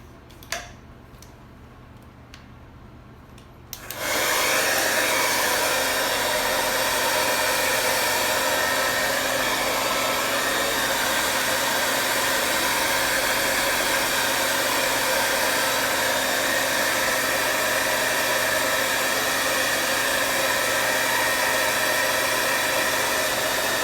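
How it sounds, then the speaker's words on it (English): A hair dryer switches on after a few seconds of quiet and then blows loudly and steadily to the end, drying acrylic paint on a minimalist palm tree and sky canvas. "So I'm gonna use my hair dryer."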